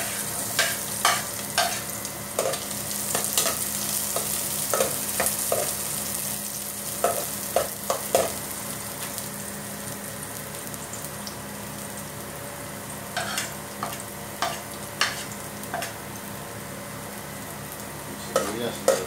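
Ginger and garlic fry and sizzle in a pan for a Filipino crab dish, with steady close crackling and repeated sharp clinks of a utensil stirring against the pan.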